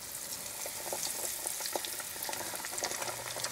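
Duck schnitzel frying in hot oil at 350 degrees, a dense, steady crackle and sizzle of popping bubbles throughout, fairly close with no talking.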